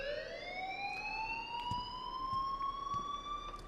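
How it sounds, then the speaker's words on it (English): An alarm rings in the video game Life is Strange, a steady rising electronic siren-like wail with layered tones, continuous and moderately loud, with faint clicks underneath. "please turn off that alarm since that's your job"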